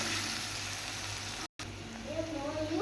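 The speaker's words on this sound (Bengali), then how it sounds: "এবার দেখো আমি একটু ভাজা করে নেব, বেশি ভাজবো না, একটু হালকা ব্রাউন কালার হবে সেরকমভাবে পেঁয়াজটা ভেজে নেব।" Chopped onions fry in oil for a chicken kosha, a soft steady sizzle that continues quietly after a brief dropout, with faint clinks of stirring toward the end.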